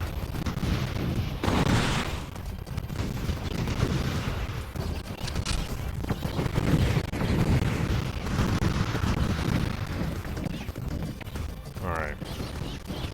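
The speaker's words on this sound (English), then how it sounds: "And I still need to fire this shoulder cannon more than I am." A giant mech's shoulder cannon fires repeatedly during a final boss fight in a video game, with dense booming gunfire and blasts throughout, overlapping other battle noise.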